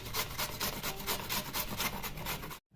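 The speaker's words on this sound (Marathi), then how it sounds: "पूर्ण असं गोल गोल फिरून गाजर किसून घ्यायचं" A carrot is rubbed back and forth over a grater in quick, even rasping strokes, close and fairly quiet, with no talk, ending abruptly in a brief silence.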